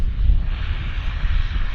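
Pacific Coastal airplane operating for WestJet at Vancouver Airport, a steady broadband engine rumble with strong low-end roar, continuous and fairly loud throughout.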